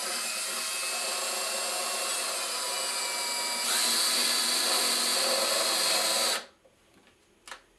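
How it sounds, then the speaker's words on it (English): A hand drill bores a hole through a clean, empty pineapple can, its loud steady whine rising in pitch partway before cutting off, followed by a couple of faint clicks. "If you need help with the drill or something like that, make sure you get it."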